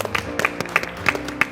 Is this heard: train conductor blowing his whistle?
no